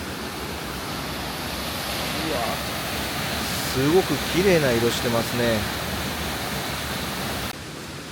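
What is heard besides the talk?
waterfall with a large drop, mountain hot spring area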